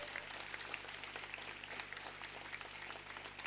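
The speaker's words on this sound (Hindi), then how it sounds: "जोरदार तालियां बजाइए।" Dense applause from an audience at a two-day yoga and meditation camp, steady clapping throughout with no speech over it.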